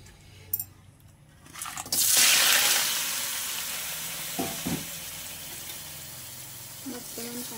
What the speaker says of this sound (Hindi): कड़ारे तेल भी पूरा गरम हो गला। कंकड़ा को पकई भाजा